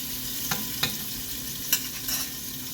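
Pineapple pieces sautéed in a pan for a Goan Saraswat-style sweet and sour bhaji, with a soft, low frying hiss and a few sharp scrapes of a spoon against the pan.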